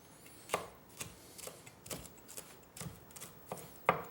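A knife finely chopping hot peppers on a cutting board for a salmon dish, about two crisp, quiet taps per second at an uneven pace, heard up close with no talking.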